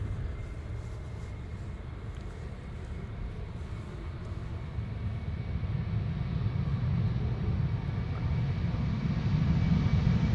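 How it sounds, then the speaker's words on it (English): A United Airlines Boeing 767-300 departs Amsterdam Schiphol bound for Washington, its jet engines a broad, steady low roar that swells gradually louder through the takeoff roll. "Next up, United Airlines 767-300 going to Washington, flight 947."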